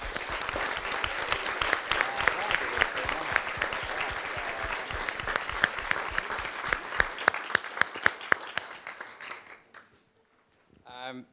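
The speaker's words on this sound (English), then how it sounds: "let's have a warm applause for Marju" Warm applause from a conference audience for a panelist, many hands clapping steadily and fairly close, thinning into scattered claps before dying out near the end, followed by a brief voice.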